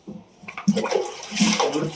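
Water splashes and gushes in uneven bursts as a drinking water tank is washed out, fairly close and loud, swelling toward the end.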